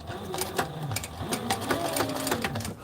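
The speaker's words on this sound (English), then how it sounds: "So 3 stitches forward, 3 stitches back" A Sailrite sewing machine stitches a flight suit in short bursts, its needle chattering rapidly and briefly pausing as it runs a few stitches forward and then back to lock the seam, close up.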